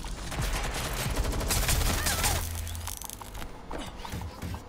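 Gunfire in Watch Dogs Legion online, a dense close volley of rapid shots that builds and then thins into scattered pops, with mechanical clicks and clatter near the end.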